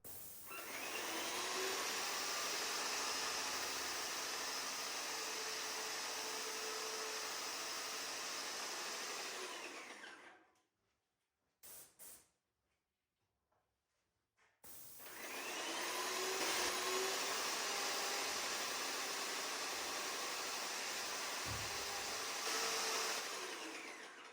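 A paint sprayer gun clogged with thick paint during a farmhouse renovation gives a loud, steady hissing roar for about ten seconds, sputters briefly in short bursts, then roars again continuously.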